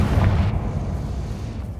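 A Confringo blasting spell detonates in Hogwarts Legacy, a single deep booming explosion that hits loud at once and then rumbles and fades over a second or so.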